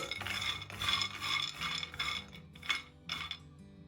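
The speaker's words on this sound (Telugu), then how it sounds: "స్టవ్ ఆన్ చేసుకుని మనం తీసుకున్న పల్లీల్ని ఒక బాండీలో వేసుకుని వేయించుకోవాలి." Peanuts dry roasting in a pan, with steady rough rattling and scraping as the nuts are stirred and tossed against the metal, in short repeated bursts at close range.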